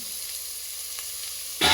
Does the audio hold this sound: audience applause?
no